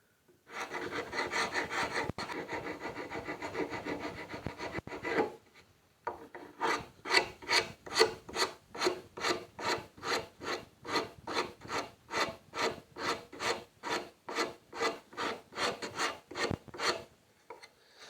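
A woodworking rasp files a wooden edge into a rounded profile, first as a continuous close rasping scrape, then as a long run of about two dozen evenly spaced, loud, rhythmic strokes.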